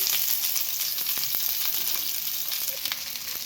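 Green chillies, dried red chillies, curry leaves and cabbage frying in oil with mustard seeds for cabbage poriyal, a steady close sizzle throughout with faint stirring clicks and no talking.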